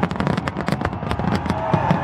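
New Year's fireworks in Boston crackle and pop in rapid irregular bursts, loud and close, over a noisy crowd with shouting voices.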